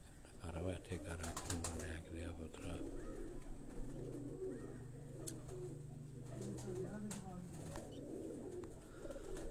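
Young racing pigeons cooing softly in a loft, low repeated coos under background chatter and someone talking nearby.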